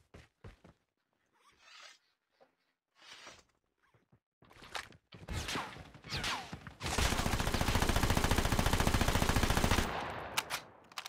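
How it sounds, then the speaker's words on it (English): Video game gunfire in Call of Duty: Mobile: scattered gunshots build into sustained rapid automatic gunfire, loud and dense for several seconds, then taper off into a few isolated shots. "A lot of gunfire near us."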